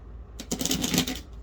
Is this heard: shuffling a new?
yes